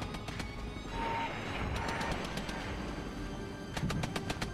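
Gunfire from the Regiments wargame, a string of sharp, distant-sounding shots scattered across a few seconds, fairly quiet over a busy battlefield background.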